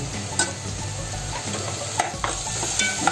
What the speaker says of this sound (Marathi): मी हे ढवून आलं लसूणची पेस्ट, म्हणजे आल्याचा वास सगळा मुरायला पाहिजे म्हणून मी चांगलं ढवून घेणार आहे